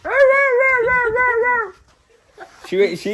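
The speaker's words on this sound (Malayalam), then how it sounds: "പട്ടിക്കുമേ മോങ്ങിക്കൊണ്ടേ ഇരുപ്പേ" A dog whines in a long, wavering high-pitched cry, then gives a few shorter whimpers after a brief pause. The sound is close and fairly loud.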